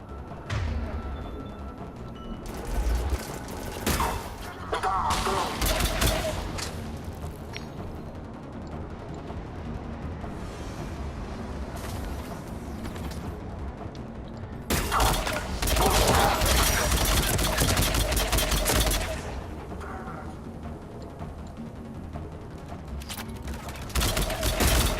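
Rapid bursts of gunfire and explosive thuds from combat in the video game Mass Effect 3, loud and dense in several heavy waves with quieter stretches between, while voices shout over the action.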